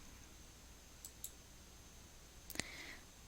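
A computer mouse gives a few quiet, crisp clicks in a still room: two single clicks about a quarter second apart, then a quick cluster of clicks a little later.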